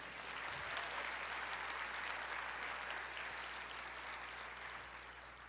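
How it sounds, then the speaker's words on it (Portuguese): Church congregation applauding in a steady, dense wash of clapping that fills the room, sustained throughout with only a slight fade at the end. "aplauda ao Senhor"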